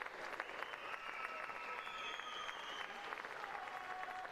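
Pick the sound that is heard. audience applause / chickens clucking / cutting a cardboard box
audience applause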